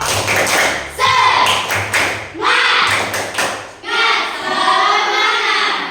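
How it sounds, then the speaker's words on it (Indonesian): A class of Indonesian children repeats a rhythmic spirit clap, sharp loud taps and thuds in short patterned bursts with chanted voices mixed in, close and energetic. "bisa diulang satu kali. Tepuk semangat."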